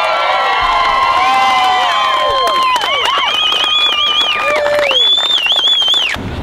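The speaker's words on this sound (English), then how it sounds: "So how about a big round of applause?" A crowd cheers and whoops at a welcome home for a military police unit back from Afghanistan, with loud high shouts, whistles and children's voices over scattered clapping, fading slightly at the end.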